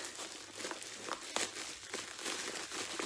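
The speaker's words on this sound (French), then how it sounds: "Moi, je me bats avec mon papier bulle." Close crinkling and crackling of bubble wrap being handled while unboxing, with scattered sharp pops and rustles over a few seconds.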